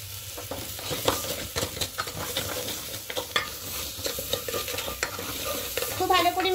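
A spiced mixture with salt, turmeric and sugar is stirred and scraped in a pan, with irregular close scraping strokes over a faint sizzle, no talking.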